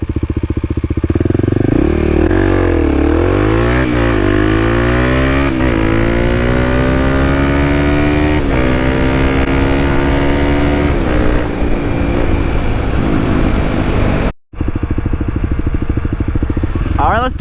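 A Kawasaki KLX300 motorcycle accelerates hard in first gear, its engine revving loud and close with a rising whine that climbs through the run, then drops out abruptly near the end before resuming.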